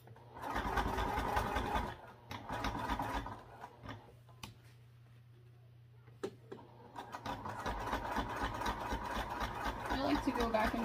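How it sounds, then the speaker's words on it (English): A sewing machine runs steadily stitching a seam with a 1/2 inch allowance, its fast mechanical whir pausing briefly mid-clip before resuming, with a voice talking over it. "we'll be sewing up the left side across the top and down with that"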